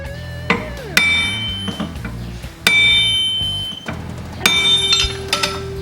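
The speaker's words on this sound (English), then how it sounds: "you can hammer the distorted areas" Metallic hammer strikes ring out on a distorted car body panel held under tension, a few loud clangs with lingering ringing tones between them.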